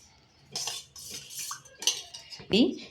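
A spoon stirring and clinking through pani puri water in a bowl, with several short bursts of scraping and chinking at an uneven rhythm, close and fairly quiet.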